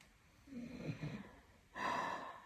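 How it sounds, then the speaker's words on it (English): A pet dog asleep on a couch snores softly nearby, one drawn-out snoring breath followed by a louder snorting inhale, with no talk. "I know you hear snoring. That's Jack, my co-pilot. He's asleep on the couch behind me, my dog."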